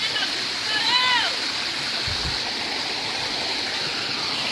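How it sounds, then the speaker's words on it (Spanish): Constant rushing water of a giant waterfall roars steadily in the background, with a brief whistling tone and faint voices early on. "Está en medio de una cascada gigantesca."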